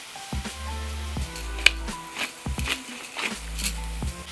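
Mushrooms fry on high heat in a pan, a soft, steady sizzle broken by stirring noises and a few light knocks from a utensil.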